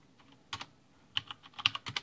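Keystrokes on a computer keyboard while a command is typed, clusters of crisp clicks in quick irregular bursts, fairly close and quiet, with no voices.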